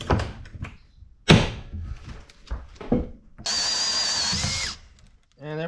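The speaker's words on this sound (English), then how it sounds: "now I can actually use the hand drill and just drop it back in the trough" A few clattering knocks and handling noises, then a hand drill whines steadily for just over a second while drilling wood on a wooden boat, before cutting off.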